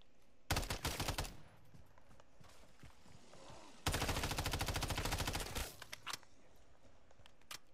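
Automatic gunfire in a video game rattles out in two rapid, loud bursts of evenly spaced shots, the second burst longer, with quieter game ambience between and after.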